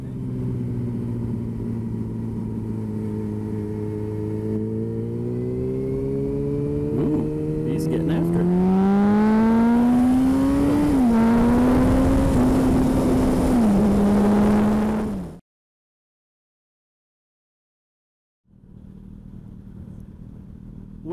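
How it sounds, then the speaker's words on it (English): A Suzuki GSX-S 750 motorcycle rides off after refuelling, its engine note climbing steadily through several rising revs, loud and close, before the sound cuts off abruptly into silence. "So Robbie just fueled up his GSXS 750 and is ready to roll out"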